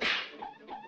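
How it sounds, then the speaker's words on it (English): A cartoon whip cracks with a sharp swishing lash at the start, followed by a fading whoosh and a softer second swish, loud and close with no talking. "Yeah, looks like I gotta crack the whip on this critter."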